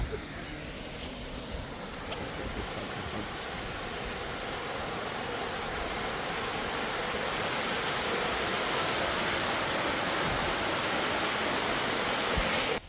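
A waterfall in Chikkamagaluru gives a continuous broadband roar of rushing water. It grows slightly louder as it comes nearer and runs unbroken, with no talking.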